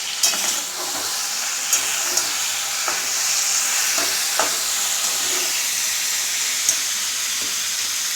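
Whole tomato dropped into frying ground onion paste for a sesame chicken dish, giving a steady close hiss of sizzling with a few faint stirring clinks scattered through, no voices.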